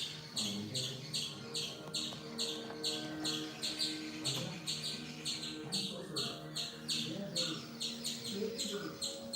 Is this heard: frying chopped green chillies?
no